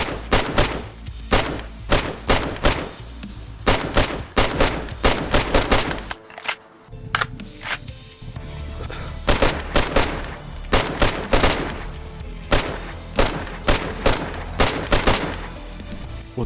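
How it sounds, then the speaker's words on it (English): Gunfire in the survival game DayZ, loud rapid bursts of automatic shots repeating in quick volleys, with a brief pause midway before the firing resumes in steady rhythmic bursts. "As I riddled them with bullets"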